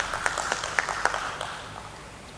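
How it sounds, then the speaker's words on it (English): Audience applause at a BSE stock exchange SME listing ceremony for Maiden Forgings Limited, scattered light clapping that fades out over a couple of seconds, fairly faint and slightly distant. "A round of applause."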